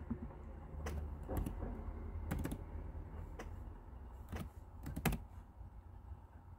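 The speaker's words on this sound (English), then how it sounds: "I'm gonna type this." Keys clack on a computer keyboard in a few quick bursts at close range over a steady low room hum, with short pauses between the clusters of keystrokes.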